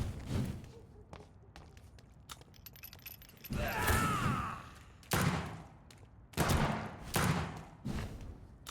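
Several sharp pistol shots ring out in Vampyr, loud and spaced a second or two apart, each with a brief echoing tail, after a quieter stretch of scuffling movement.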